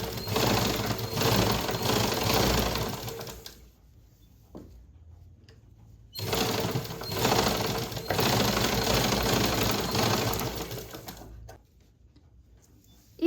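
A sewing machine stitches the side seam of a blouse in two long, loud continuous bursts, its fast motor rattle separated by a quiet pause.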